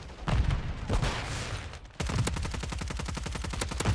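Rapid automatic gunfire in the Call of Duty Modern Warfare III multiplayer game, a burst of shots followed by a steady, evenly spaced stream of fire, fairly quiet with no talk.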